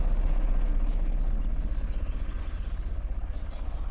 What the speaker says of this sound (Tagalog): Para may problema yung helicopter, umiikot ng ilang beses ah.